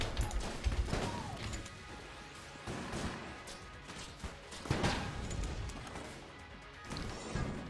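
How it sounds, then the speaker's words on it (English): Explosive crossbow bolts detonate in the video game Enter the Gungeon, a string of sharp crashing blasts at irregular intervals over continuous game effects and background music. "We get extra explosions. It's pretty nifty."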